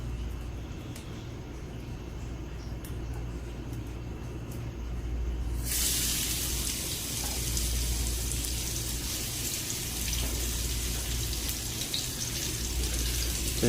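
Chopped onions tipped into hot oil in a pan for a Bengali potato, eggplant and egg bhaji: a low kitchen hum gives way partway through to a sudden, loud, steady crackling sizzle that carries on to the end.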